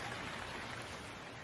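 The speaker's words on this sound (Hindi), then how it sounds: "टूनी चिड़िया के बच्चे बारिश में भीगने की वजह से कांपने लगते हैं" Steady, dense rain pouring down in a cartoon story about a bird and her chicks in a nest, a continuous hiss with no gaps and no voices.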